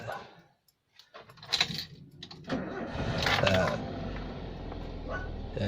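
A car engine with a weak battery cranks sluggishly for a few seconds, then settles into a running idle, with a person talking over it and a dog barking nearby.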